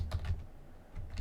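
Keys clatter on a computer keyboard in quick soft taps, close and quiet, with a short pause in the middle before more keystrokes follow.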